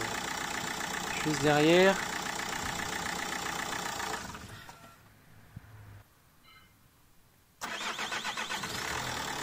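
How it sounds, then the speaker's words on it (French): Peugeot 407 engine cranking on a refitted starter motor, catching and settling into a steady idle, then cutting off and restarting to idle again; someone speaks briefly near the start. "Allez, on teste le démarrage."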